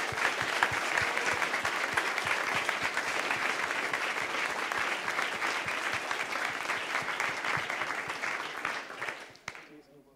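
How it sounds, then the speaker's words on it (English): An audience applauds a platinum sponsor at a closing ceremony, dense sustained clapping throughout that fades away just before the end. "please give him a round of applause"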